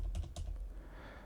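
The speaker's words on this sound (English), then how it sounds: "press Control D on my keyboard, or Command D if you're on a Mac" Computer keyboard keys tapped in a quick cluster of clicks while setting up a shortcut in Unreal Engine 5.6.1, close and moderately loud, then fading into quiet room noise; no talking.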